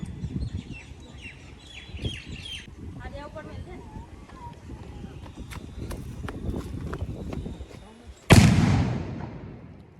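Background chatter and outdoor noise, then a single loud VIP bomb firecracker bang goes off close by near the end, its crack trailing off.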